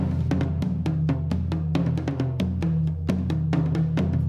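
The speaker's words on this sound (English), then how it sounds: "buried in there is a separate drum set that's just playing toms." A separate drum set plays only toms in a rock mix, sounding as steady, resonant low hits in a rolling rhythm with sharp accents, close and fairly loud.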